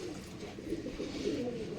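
Pigeons of an old home-kept line cooing in a loft, a steady low murmur of overlapping coos rising and falling close by, with no talk.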